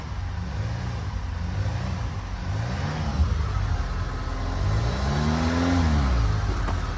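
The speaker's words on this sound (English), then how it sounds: "let's give it a couple of revs here" A 2009 VW CC Sport engine, an older car bought at a salvage auction, revs up several times in close, loud rising and falling surges over a steady idle, with the last and longest rev near the end.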